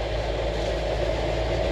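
The engine of a restored Peugeot P4 army jeep drones steadily and low while it drives along an overgrown country lane, close and continuous without change.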